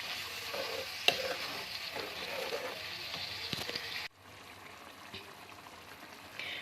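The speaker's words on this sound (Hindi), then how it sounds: "अब इसको अच्छी तरह भूनेंगे हम जब तक ऑयल सेपरेट ना हो जाए।" Aloo matar curry masala frying in oil in a pan, a steady close sizzle with occasional stirring clinks and scrapes, dropping to a quieter sizzle partway through, with no talk.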